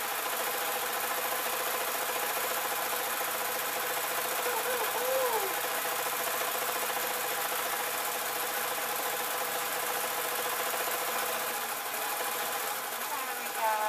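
A sewing machine runs steadily, sewing piping onto a satin apron, a close, continuous mechanical hum with a fine rapid needle patter throughout.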